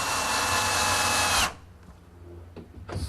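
A power drill whines loudly and close for about a second and a half while hinges are fastened to a workbench frame in a garage workshop, then stops, leaving quiet handling knocks.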